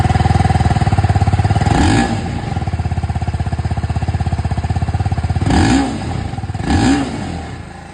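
A 2024 TVS Apache RTR 310 motorcycle runs close by with a metallic exhaust note, a steady pulsing idle broken by three quick throttle blips that rise and fall.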